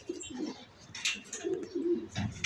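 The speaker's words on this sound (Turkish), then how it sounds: "Yani bu biraz farklı bir güvercin yani." Pigeons coo softly nearby in short, low, throaty bursts, with a few brief rustles between calls.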